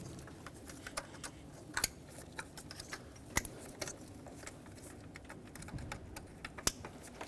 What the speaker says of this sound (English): Make sure these click